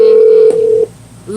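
A telephone dial tone holds steady, then breaks off into a brief dialing beep before the line goes quiet, with the start of a ring tone at the end, loud and close, and no talk.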